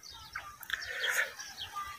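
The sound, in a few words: birds chirping in sorghum field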